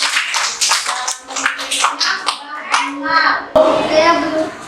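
Schoolchildren in a classroom clap their hands in a quick scattered round, mixed with children's voices and an adult teacher talking over the noise.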